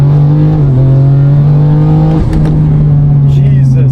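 A BMW S58 twin-turbo engine with upgraded turbos and port injection pulls hard at wide open throttle in third gear, a loud steady engine drone rising in pitch, dipping at a shift around the midpoint, then climbing again as a voice speaks over it.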